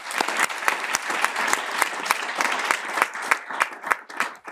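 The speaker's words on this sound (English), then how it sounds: "Maybe a round of applause for the whole session." A conference audience at an artificial intelligence workshop applauds the whole session, a steady wash of many hands clapping with sharp individual claps standing out, loud and sustained throughout.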